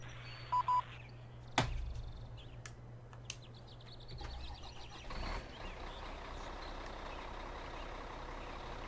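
A Lizard truck in Farming Simulator 2013 runs with a low, steady engine hum. A short pair of reversing beeps sounds at the start, followed by a few clunks and thumps; no one speaks.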